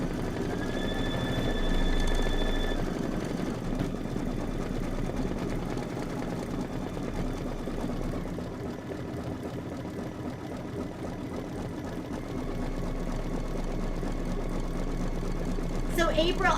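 An embroidery machine stitches a satin outline on a quilting block, a steady mechanical hum with a rapid needle clatter that runs under a person talking, with a short beep near the start.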